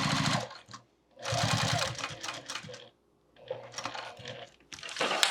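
A sewing machine top stitches through a bag's lining and zipper, running in three fast rattling bursts separated by short pauses, close and loud.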